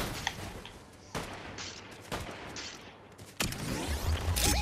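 In Fortnite, SMG gunfire cracks out in short, sharp bursts about once a second over a low background rumble, with a louder, denser volley at the end.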